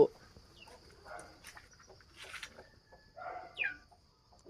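Scattered soft clucks from chickens shut inside a cabinet nearby, brief and irregular, with faint background voices and a steady high-pitched hum.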